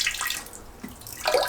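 Water poured out into a sink, a short splashing gush with a trickle and a brighter splash near the end, fairly close.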